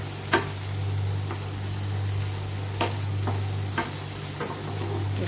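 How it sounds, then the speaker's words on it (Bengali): Chopped green chili and half a tomato fry in a pan with a steady low sizzle and a constant hum. A spatula scrapes and taps at irregular intervals, and no voices are heard. "এটাকেও একটু নাড়িয়ে চাড়িয়ে ফ্রাই করতে হবে"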